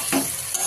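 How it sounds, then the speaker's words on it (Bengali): Potatoes frying in a small amount of oil in a home kitchen give a brief, close, steady sizzle with a soft stirring scrape, and no voices. "আর আলু ভাজা হচ্ছে"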